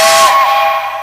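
A Lombard log hauler's steam whistle sounds one loud, close blast, a bright sustained hoot with breathy steam hiss that fades slightly toward the end.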